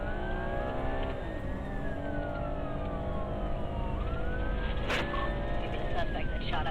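A police car siren wails in slow rising and falling sweeps during a high-speed chase, sitting over a heavy rush of engine and road noise, moderately loud throughout.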